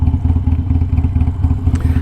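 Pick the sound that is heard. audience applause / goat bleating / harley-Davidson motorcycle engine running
harley-Davidson motorcycle engine running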